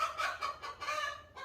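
A hen named Karen on a homestead clucks in a steady run of close, moderately loud calls, alone with no talk over it.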